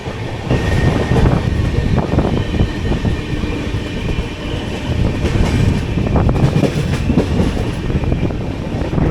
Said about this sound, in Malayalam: നമ്മൾ ജസ്റ്റ് റായ്ചൂർ സ്റ്റേഷനിലോട്ട് കയറുകയാണ്.